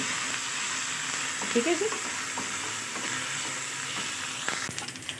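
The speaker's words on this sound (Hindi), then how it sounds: "अब यहाँ 1 टीस्पून जो है वो अदरक लहसुन का पेस्ट डाल देंगे और इसको हम इसके साथ अच्छे से फ्राई कर लेंगे।" Ginger garlic paste frying with onions in a pan gives a steady, close sizzle with occasional stirring scrapes, and a brief voice speaks over it.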